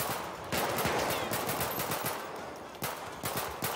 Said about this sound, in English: Let's see if we can just shoot the police real quick.